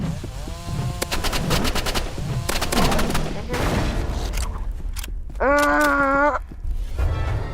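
Rapid bursts of energy-pistol fire in the game Roblox Rivals, close and loud, in quick repeated volleys with a rising tonal whine midway through.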